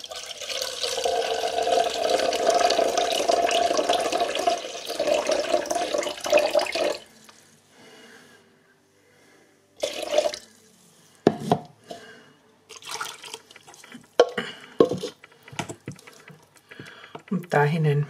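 Liquid for baked-apple chili jam pours into a container on a kitchen scale, a steady close splashing stream lasting about seven seconds, followed by quieter clinks and handling noises of the container being set down.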